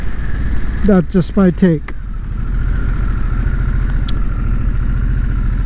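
A Harley-Davidson Sportster S engine idles with a steady low throb throughout, while someone briefly speaks over it early on.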